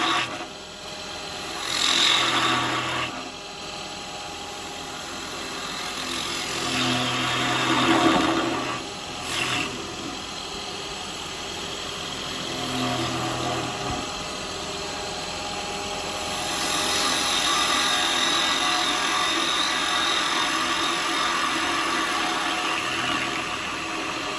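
Wood lathe turning a wooden spinning top with a carbide detail tool, scraping and rasping cuts rising and falling in bursts over the steady hum of the motor.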